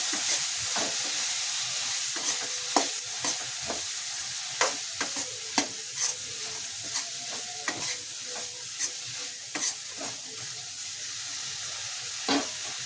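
Chopped coriander stirred into a frying vangibath (brinjal rice) mixture in a pan, giving a constant close sizzle with frequent sharp spoon scrapes and clinks spread evenly throughout, no voices.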